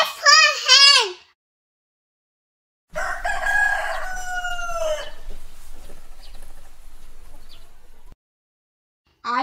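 A rooster's crow and clucking chicken calls come in short bursts separated by silences, close and clear.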